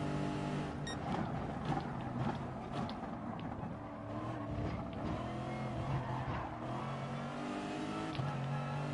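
Lexus RCF race car engines at Monza in a racing game, several cars droning and revving continuously at a steady loud level, with tonal engine whine layered throughout.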